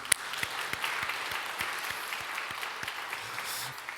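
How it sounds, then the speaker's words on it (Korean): A church congregation gives a sustained round of applause during a Sunday youth service, a dense wash of many hands clapping at a steady level with a few sharper individual claps standing out. "우리 하나님께 감사와 영광의 박수 올려드리겠습니다"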